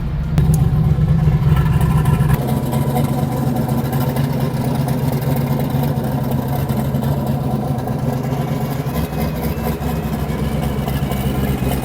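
A 1967 Ford Mustang engine runs with a loud, steady low rumble that stays close and constant throughout, with a brief rev near the start. No one speaks.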